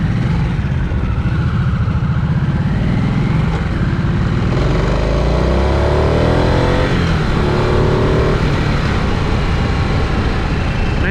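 A 2023 Harley-Davidson Nightster Special motorcycle engine pulling hard under acceleration on a test ride, a loud continuous roar with rising and shifting pitch as the revs climb, heavy wind rumble over it.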